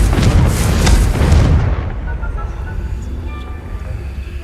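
A Confringo explosion spell in a Harry Potter video game sets off a loud, deep boom that rumbles briefly and then fades into a softer lingering tail.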